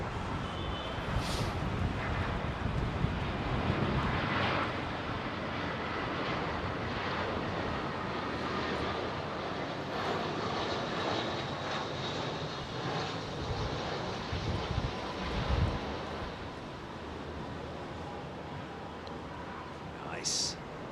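A Singapore Airlines Boeing 747 freighter on approach and landing gives a broad, steady roar in the distance, with wind buffeting the microphone throughout and a brief rise in the engine rumble midway.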